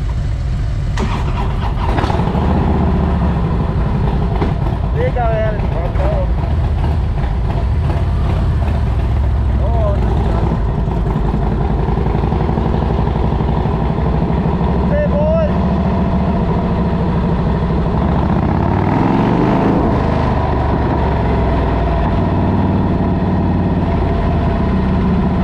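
A vehicle engine drives steadily along the Great Eastern Highway heading east, a continuous loud rumble with road noise throughout, briefly shifting as a gear is found; someone talks over it.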